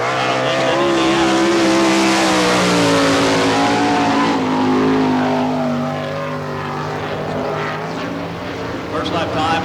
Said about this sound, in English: Sounds like the sprint car engine might be breaking up just a little bit on Brian.